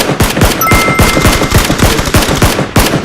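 Rapid bursts of automatic gunfire in a battle-royale-style squad video game, loud and dense shots rattling continuously with overlapping reports throughout, no voices.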